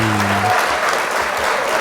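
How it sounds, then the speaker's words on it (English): Minecraft Bedrock applause sound effect: a dense, steady burst of crowd clapping that carries on for the full stretch, with a brief low tone at the start and no talking over it. "Thank you for the round of applause from Stellorian."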